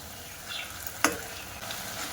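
Carrot sweets fry in hot oil with a soft, continuous sizzle. A sharp utensil clink marks one being flipped over in the pan, and the sizzle carries on afterward, close and quiet.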